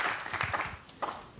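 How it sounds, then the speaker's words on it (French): Scattered applause from a small audience at a plenary meeting, a brief patter of claps that is moderately faint and fades after about a second. "J'entends des applaudissements."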